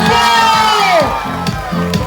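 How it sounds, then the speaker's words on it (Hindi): A shopping-mall audience at an evening musical show cheers and whoops loudly over music, with a few sharp bursts of noise near the end. "जोरदार तालियां"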